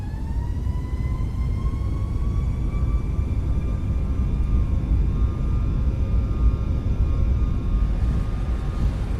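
Boeing 737 MAX 8 jet engines in the iFly flight simulator spooling up to takeoff thrust, a loud steady roar with a rising whine that climbs gradually throughout, with no talk.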